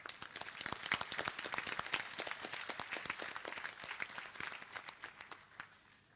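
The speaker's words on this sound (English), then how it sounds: "Please give them all a round of applause" A graduation ceremony crowd at the Seychelles Business Studies Academy applauds the graduates, with thick sustained clapping that runs evenly and then thins out and fades at the end.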